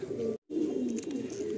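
Andhra high flying pigeons cooing nearby in a loft, a steady run of low throaty coos with one brief silent break partway through.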